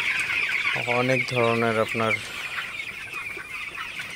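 Broiler chickens cluck at night inside a poultry shed, a close run of several rhythmic clucks lasting a couple of seconds over a steady background hum, with a person talking.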